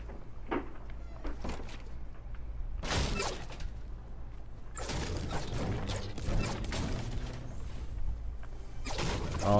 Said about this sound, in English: Oh, I hear him breaking stuff.